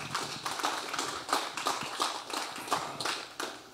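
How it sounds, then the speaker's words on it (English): A church congregation claps in a fairly steady rhythm of bursts, heard quietly at a distance with no talking over it. "Give the Lord a clap offering."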